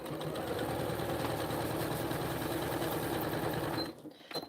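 A sewing machine quilting a vinyl zippered pouch runs in a steady, fast rhythmic stitching patter for nearly four seconds, then stops abruptly, leaving a few faint clicks.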